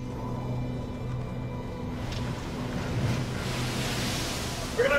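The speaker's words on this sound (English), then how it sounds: "Now we have waves spilling over the bow" Heavy seas wash over the bow of the bulk carrier MV Derbyshire in a steady roaring rush of surf and wind, swelling louder toward the end.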